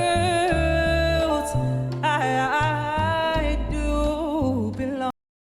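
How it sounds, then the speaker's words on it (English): A sung pop vocal line with a drooped soft palate, giving a dark, covered, breathy tone, wavers and slides over a low backing accompaniment for a few seconds before stopping abruptly. "So what you're hearing there is a drooped, soft palate, and it gives a very specific sound."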